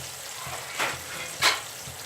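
Chickpeas with spices sizzle in a frying pan, a steady close hiss with two brief swells as the mixture is stirred.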